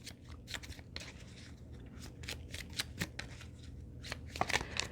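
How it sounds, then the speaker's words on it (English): Playing cards being shuffled close up, a series of quick riffling flutters and soft taps, fairly quiet with no speech. "I'm going to shuffle the Healing Crystals playing cards deck"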